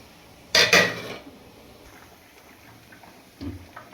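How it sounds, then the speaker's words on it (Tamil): A metal lid goes onto a pot of onion sambar cooking with drumsticks and small onions, making one sharp clanking knock and a brief rattle, then a softer bump follows in a quiet kitchen. "இப்போ வந்து இது மூடி போட்டு மூடி வச்சிருவோம்."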